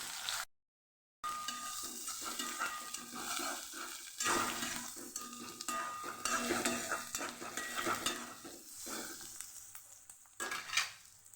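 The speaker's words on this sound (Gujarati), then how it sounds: "અહીં આપણે પવાનો વઘાર કરશું અડધી ચમચી જેટલી રાઈ મૂકશું અડધી ચમચી જેટલું જીરું મૂકશું" Mustard seeds, cumin, curry leaves and onion crackle and sizzle in hot oil for a poha tempering, with a spoon scraping and clinking against the pan, quiet but steady after a brief gap of silence near the start.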